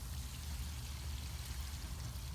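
Steady stream of water pours onto garden plants from close by, a continuous splashing patter with a low background rumble and no voices.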